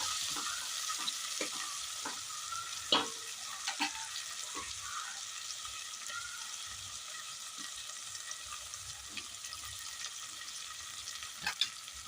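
Mint and coriander frying in oil for a veg biryani, giving a steady, even sizzle throughout with faint intermittent scrapes of a stirring spoon, fairly quiet and close.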